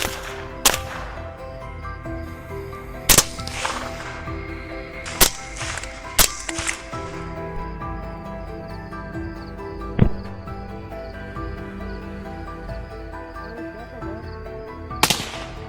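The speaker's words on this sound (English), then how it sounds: "The gunshots rang out, causing the herd of pigs to panic and run away." Gunshots ring out in the night on a wild pig hunt in Carolina, scattered as sharp single cracks over about fifteen seconds. A steady outdoor hum runs underneath, and no voices are heard.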